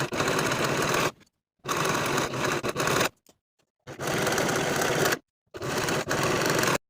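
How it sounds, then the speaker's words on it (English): A serger overlocks the outer edges of fabric facing pieces for a boxy tee shirt, running in four loud, close bursts of steady whirring with short silent pauses between them. "Now I'm going to finish each of the outer edges with my serger."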